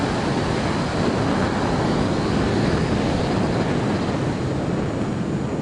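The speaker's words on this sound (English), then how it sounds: "Ah, full afterburner." A jet engine roaring on full afterburner in Microsoft Flight Simulator 2024, a steady, dense, unbroken roar that holds at constant loudness throughout, with no voices over it.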